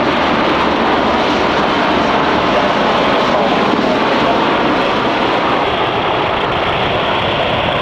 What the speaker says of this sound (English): The Iskra is a straight training airplane, two-seat tandem.